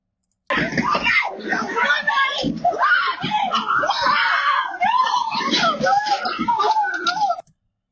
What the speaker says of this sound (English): She's running, she's screaming.